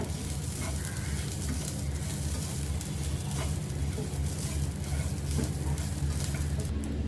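Coriander seeds and grated coconut dry-roasting in a pan for Mangalorean chicken curry give a faint, steady crackle and hiss over a constant low hum, with occasional soft clicks and no talking.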